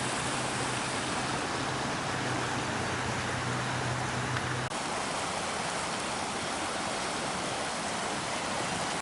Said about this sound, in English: The creek is full.